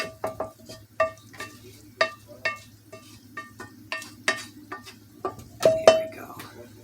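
Ground beef and onions cooking in a hot pot for baked bean chili, with a soft sizzle under repeated close clinks and scrapes of a utensil stirring against the pot.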